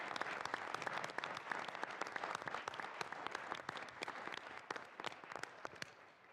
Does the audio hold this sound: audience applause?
yes